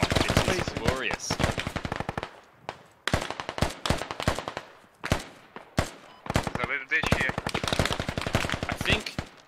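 Assault rifle fire in a tactical shooter, with rapid volleys and single cracks coming in clustered bursts and short gaps between them, close and sharp.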